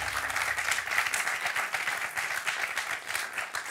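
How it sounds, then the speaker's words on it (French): A studio audience on a French TV quiz show bursts into dense, sustained applause for the whole stretch, loud and close with no speech over it. "Sous les acclamations de notre incroyable public"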